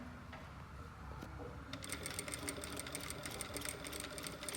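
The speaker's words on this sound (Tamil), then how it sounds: "இப்போ நான் இந்த மிஷினை கைட் லிஃப்ட் பண்ணிட்டு தைச்சு காட்ட போகிறேன்." A Jack A2B Keerthi industrial sewing machine stitches steadily at a low speed, a fast even mechanical chatter that picks up and holds a dense rhythmic whir, close and fairly loud with no voices.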